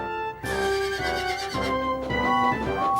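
A horse neighs loudly and close, a long shrill whinny with wavering pitch that rises and falls for a few seconds.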